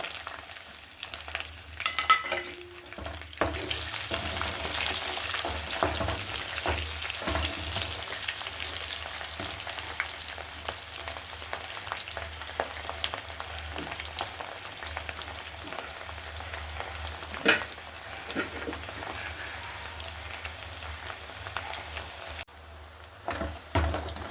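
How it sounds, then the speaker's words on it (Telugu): Cumin, mustard seeds and dried red chilies sizzle steadily in hot oil in a kadai while tempering for drumstick pickle, a continuous crackling hiss with occasional louder pops, close and without talk. "పోపు గింజలు బాగా ఫ్రై అయ్యాక అందులోనే చింతపండు గుజ్జే"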